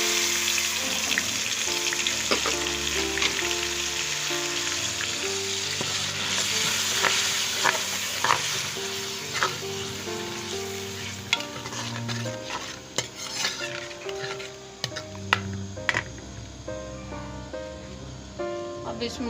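Tomato, onion and chili frying in ginger garlic paste in a pan, a loud continuous sizzle with frequent spoon scrapes and clinks, stirring quickening toward the end, no one talking.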